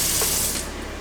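Tap water running and splashing over hands being soaped up at a sink, a steady bright hiss that thins out partway through, close and fairly soft with no talking.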